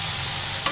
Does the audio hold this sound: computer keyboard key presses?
no